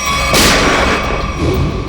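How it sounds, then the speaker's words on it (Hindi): A single sharp gunshot-like crack, loud and close, with a broad burst that decays over a second against a steady noisy background. "तो गोली यहां से चली है"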